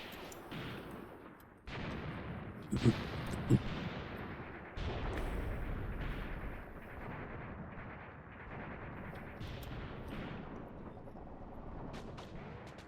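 Artillery rounds land in the wargame Graviteam Tactics, giving repeated heavy booms and rumbling blasts that hit at irregular intervals under a continuous din of battle, with a couple of sharper cracks.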